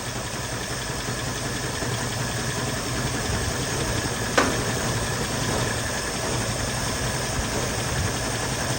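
A 1975 mail Jeep engine with a suspected failing fuel pump runs steadily near the microphone in a continuous rough idle with faint knocking, one brief sharp click midway, no talk over it.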